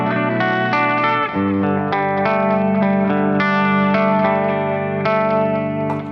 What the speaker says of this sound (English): So this is clean on a humbucker bridge.